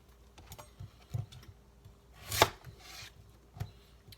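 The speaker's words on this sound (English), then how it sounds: "I'm just cutting these in half" A knife chops through beets on a cutting board for roasted vegetables, giving several sharp, close knocks spread unevenly, with one louder crunching cut near the middle.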